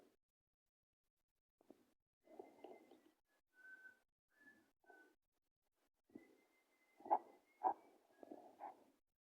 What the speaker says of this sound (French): Un couple est réveillé par des sifflements dans leur maison.